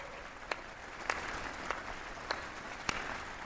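A crowd applauds at a broadcast ceremony honouring India's athletes, a dense, even wash of clapping that holds steady for several seconds, with a few louder individual claps standing out.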